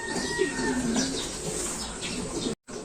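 Pigeons cooing close by, a few soft low warbling coos over faint background ambience, with a brief dropout near the end.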